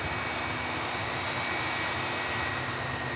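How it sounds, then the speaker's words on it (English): An Aer Lingus Airbus A330 heavy jet departs, a steady broad engine roar held at a constant level throughout, heard from a distance with no talk. "as we're about to capture this lovely heavy departure. Aer Lingus A330 Lima Alpha flight Echo 145 heading over to the Big Apple"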